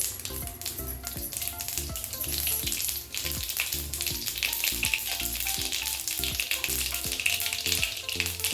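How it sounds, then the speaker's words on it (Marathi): Mustard seeds and cumin sizzling in hot oil for a quick vegetable dish, a dense steady crackle with rapid popping spatters, loud and close, no voices. "मोहरी घालून घेऊया थोडे जिरे हातावर चोळून घालायचे जिरे"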